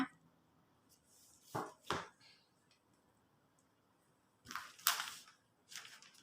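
Scissors cut through sarong fabric for a wrap-style skirt, giving a few crisp, close snips in two small clusters separated by quiet pauses.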